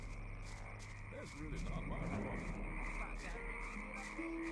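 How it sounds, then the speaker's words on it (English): Frogs croak in the video game Gothic 1, a few low rippling calls rising over a steady ambient hum, moderately close and unbroken by talk. "Ah, the sound of frogs."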